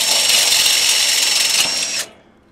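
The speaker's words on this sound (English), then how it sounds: "with the pilot of the drill, we're going to just go through the inner hole just with the pilot part." A power drill runs at high speed with its pilot bit boring through the inner hole while a Zedlock is being fitted, a loud steady whine held close for about two seconds before it cuts off.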